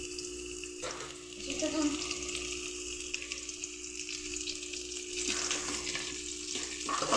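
Garlic and onions sauté in a hot pan, already burnt, giving a steady close sizzle and frying hiss throughout, with a brief spoken remark near the start.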